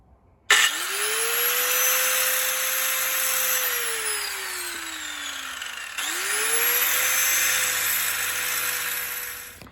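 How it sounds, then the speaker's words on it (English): An angle grinder fitted with the wrong wheel whines up against stuck axle bolts on a Yamaha Warrior 350 ATV. The pitch sags under load, briefly drops, then spins back up for a second loud stretch, with no talking. "we're gonna give it a little bit of persuasion with the old angle grinder"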